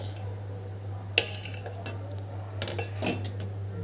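A spoon mixes oats dosa batter in a bowl, giving a few sharp metallic clinks and scrapes against the bowl, with soft stirring between them and quiet surroundings.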